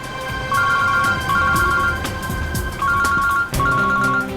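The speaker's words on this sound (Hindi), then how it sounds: "श्रेया की माँ का फोन।" A phone ringtone plays in repeating electronic beeping phrases, steady and fairly clear against a low background hum.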